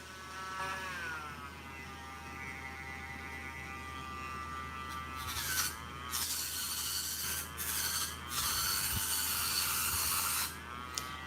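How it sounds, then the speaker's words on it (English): A Dremel rotary tool polishes a piece with a steady, close motor whine and hum whose pitch dips and rises as the load changes, with brief harsher bursts as the bit presses in. "using your Dremel tool. So we can do that real fast here"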